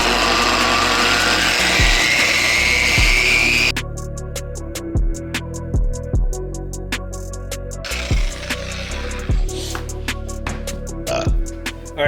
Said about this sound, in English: I am going to be using a DA instead of doing this by hand